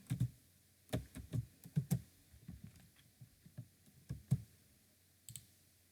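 Keys on a computer keyboard are typed in uneven bursts of sharp, close clicks while a document is written, with short pauses between the runs of keystrokes and a quiet background.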